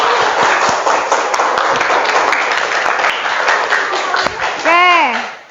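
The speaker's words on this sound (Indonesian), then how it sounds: "Oke, tepuk tangan buat kalian" Children in a classroom applaud together in a steady, fairly loud patter of clapping, ending with a brief spoken voice.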